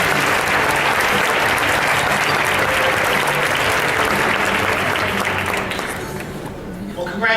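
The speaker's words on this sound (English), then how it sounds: "We'll give them another round of applause." Audience applause at a philanthropy award ceremony honoring nonprofit organizations, a dense sustained wash of clapping that holds steady, then thins toward the end before a final burst.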